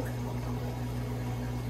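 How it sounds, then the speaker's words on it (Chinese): A repaired aquarium lift pump motor, its bearing replaced, runs with a low steady hum under the soft, even rush of flowing water, continuous and quiet. "只剩下马达正常的声音以及水声。"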